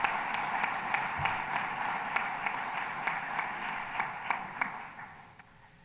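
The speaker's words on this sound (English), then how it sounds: "please give yourselves a round of applause." Graduates at the Loyalist College convocation ceremony applaud themselves, a broad, moderately distant wash of clapping with individual sharper claps that tapers off near the end.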